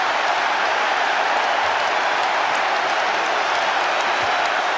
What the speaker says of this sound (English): And listen to this Twickenham crowd, they're loving it.